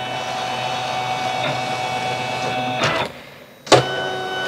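Motorised sticker cutting machine running a test cut in a small studio, a steady whirring drone with tonal hum, then two brief sharp carriage movements near the end, close and alone without speech.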